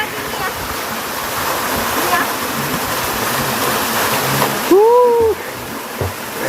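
The Curug Jambe waterfall near Ciawi, Bogor, roars in a steady, close, full rush of falling water, with a brief voice rising over it.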